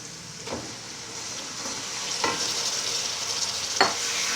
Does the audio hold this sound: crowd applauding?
no